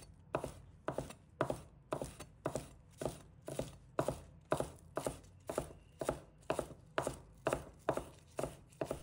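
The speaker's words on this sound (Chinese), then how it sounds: "把它切成葱花。" A knife chops green onions on a cutting board in a steady, even rhythm of about two crisp strikes per second, close and clear, with nothing else heard.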